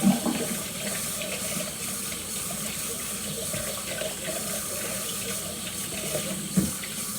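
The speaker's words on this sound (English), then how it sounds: "I'm trying to rinse some of this chocolate out with my hand before I put it on my thingy." A kitchen tap runs steadily as chocolate is rinsed off a hand under the flow, a constant splashing hiss with a brief louder splash near the end.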